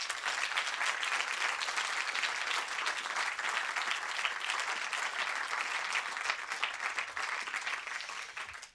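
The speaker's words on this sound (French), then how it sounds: "je vous demande un tonnerre d'applaudissements pour Hervé Mermillot" Sustained audience applause at a live podcast recording event, dense clapping steady throughout and fading slightly at the end, with no talk over it.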